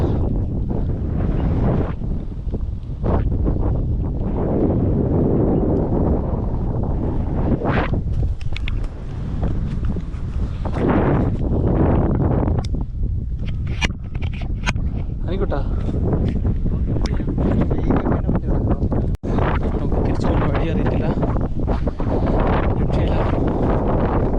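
Strong, gusty wind on a rock outcrop roars and buffets the microphone almost nonstop, with a low rumble that surges and eases throughout.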